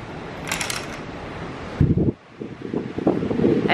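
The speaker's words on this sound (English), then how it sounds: "apologize if the wind is noisy on camera" Outdoor wind in the Dominican Republic buffets a camera microphone in loud rumbling gusts, with a brief drop near the middle before the blustery roar returns.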